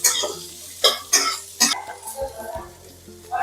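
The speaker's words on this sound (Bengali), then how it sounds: "পেঁয়াজটা আমি ভালোভাবে ভেজে নেবো।" Chopped onions frying in a kadai after cumin seeds and dried chillies, giving a crackling sizzle with a few sharper bursts and a cough-like sound partway through.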